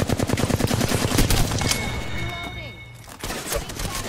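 Rapid bursts of video game gunfire crackle through the first half, loud and dense, then thin out into scattered shots with a speaking voice over the top.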